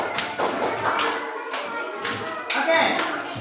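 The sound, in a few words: applause for everyone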